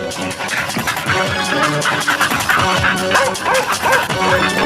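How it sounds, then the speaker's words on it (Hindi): A dog barks and yips repeatedly while chasing a man, loud, close and frantic, with whimpering mixed into a busy cartoon-style soundtrack. "अगले दिन जब गेंदा सेठ पानी भरकर वापस आ रहा था, तब उसके पीछे एक कुत्ता पड़ गया।"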